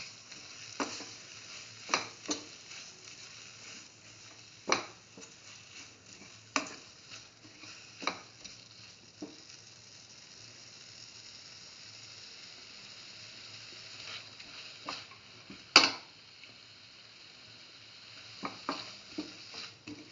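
Spinach leaves and ash gourd stir-fried in a pan, with soft scattered scraping and stirring clicks over a faint steady sizzle, occasional sharper knocks of the utensil against the pan.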